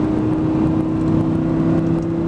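An Audi R8 drives steady recon laps at Infineon Raceway, its engine holding a constant loud drone with a strong tonal hum, close and without talk.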